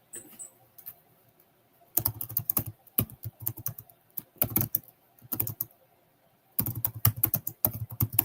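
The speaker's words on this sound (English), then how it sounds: "I'm literally typing" Typing on a computer keyboard, heard as bursts of rapid key clacks broken by short pauses, close and fairly loud with no talking.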